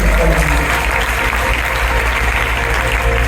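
Crowd at a gospel concert applauding, a loud continuous wash of clapping with a low rumble of voices underneath, sustained evenly and close.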